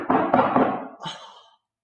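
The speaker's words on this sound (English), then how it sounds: "there's someone at the door." Knocking on a door indoors: a quick cluster of three firm raps followed by a lighter one, close and dry, then silence.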